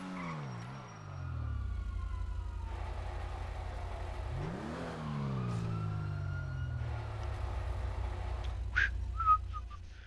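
A lowrider car in the GTA Online video game pulls into a garage, its engine humming steadily with pitch dips and swells as it revs, ending in a few sharp clicks and knocks.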